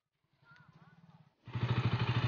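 A 2022 KTM Duke 200 BS6 motorcycle with its stock exhaust idles with a rhythmic, pulsing thump, first quieter under a voice, then much louder and closer as the throttle opens into a deeper, steady beat.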